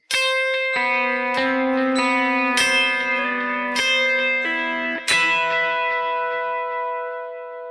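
Electric guitar playing gothic-style picking with chorus and echo effects, five strong picked chords at steady intervals ringing out, the phrase ending on sustained high notes that slowly decay, close and loud with no voices.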